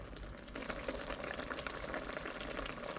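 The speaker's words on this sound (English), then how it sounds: "So I'm gonna let this simmer up just one more time here." Vegetarian chili with beer simmers in a pot, a soft continuous bubbling and faint sizzle, quiet and close with no voices.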